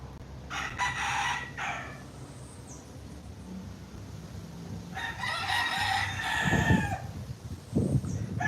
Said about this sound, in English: Yes, a lot of chickens back there.